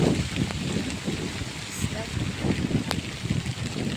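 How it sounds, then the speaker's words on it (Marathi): Heavy rain pours down in a dense, continuous hiss, close and steady, with muffled voices underneath. "बघा पाऊस आता लई खूप जोरात येतोय"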